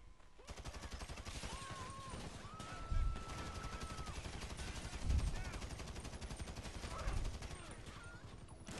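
Rapid gunfire in GTA Online, dense continuous bursts with heavier low thumps recurring every couple of seconds, and faint game tones underneath.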